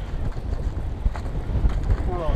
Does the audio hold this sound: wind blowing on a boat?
yes